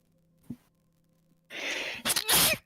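A person sneezes once with a sharp inhaled gasp leading into a loud explosive burst, close and clear after a faint earlier breath.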